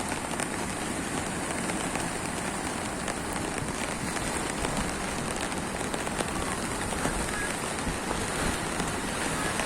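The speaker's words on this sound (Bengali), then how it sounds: "দেখছেন সাগরে প্রচুর বৃষ্টি হচ্ছে।" Heavy rain pours over the sea at a shoreline on an overcast day after a cyclone, a dense continuous hiss of drops spread evenly and steadily throughout, with no voices heard.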